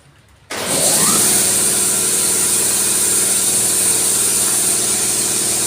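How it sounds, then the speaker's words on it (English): A motor kicks on abruptly after a quiet moment, spinning up and settling into a loud, steady mechanical hum with a hissing edge. "we've got the compressor running"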